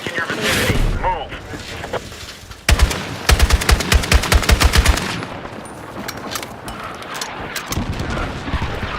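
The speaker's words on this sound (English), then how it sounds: "Hostile machine gun" Machine gun bursts in a Battlefield 6 match, with a sharp rapid volley of loud shots in the middle, surrounded by rumbling battle noise and talk.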